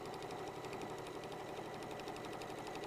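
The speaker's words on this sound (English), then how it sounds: "pivot your project and just continue to sew around there using that 1/4-inch seam" A sewing machine runs a steady, even stitch along a quarter-inch seam while the fabric is pivoted around a corner, a faint continuous mechanical hum with no talking.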